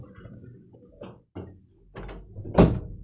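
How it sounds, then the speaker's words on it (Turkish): A few dull thumps and bumps of a door, ending in one louder close near the end, with quiet room noise between. "Git kapıyı da kapat."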